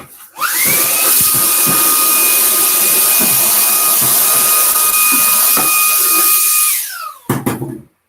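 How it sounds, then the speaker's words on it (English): A vacuum cleaner runs close and loud behind a Glowforge laser cutter, spinning up with a rising whine, holding a steady high-pitched roar with small knocks as it sucks debris, then winding down, followed by a few clattering handling sounds. "And let's do a quick little vacuum."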